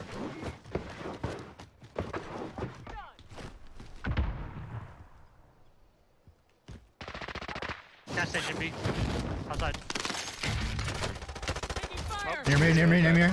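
Rapid bursts of video game gunfire crackle through a firefight, with dense volleys early on, a brief lull, then sustained heavy shooting until the end, mixed with faint voices.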